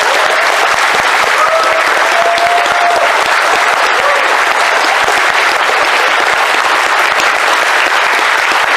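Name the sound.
audience applause on stage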